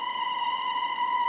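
A Leisuresonic Cosmovox electronic instrument holds a steady, pure electronic tone with bright overtones. It is sustained and even, fairly loud and close, with no talking over it.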